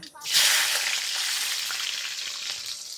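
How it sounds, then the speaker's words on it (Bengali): Garlic hits hot oil already holding nigella seeds, a sharp, close burst of sizzling that eases into a steady crackling fry. "এবার আমি কালো জিরে পরে দিয়ে দেবো রসুন।"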